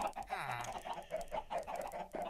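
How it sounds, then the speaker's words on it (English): Chickens in the Minecraft video game cluck in a dense, steady string of short clucks close by, with a few in-game clicks. "all my chickens are getting out"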